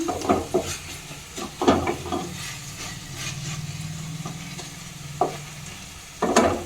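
Vaseti bhaji greens mixed with garlic chutney sizzle in a pan while a spoon scrapes and stirs in several sharp strokes, the frying hiss continuing steadily between them.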